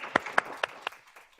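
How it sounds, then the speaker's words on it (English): Applause at a board of trustees meeting, a few sharp, distinct claps spaced roughly evenly in quick succession, nearby and clear, then fading into scattered softer ones. "Let's give him a big round of applause."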